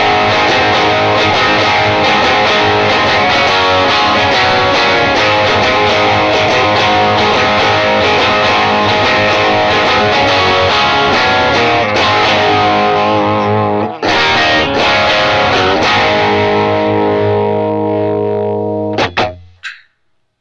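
Electric guitar played through a pedalboard with effects and distortion, highs boosted by 6 dB, a UA Dream 65 amp tone; loud sustained chords ring alone for about twenty seconds, briefly cutting out around fourteen seconds before a final strum and fade.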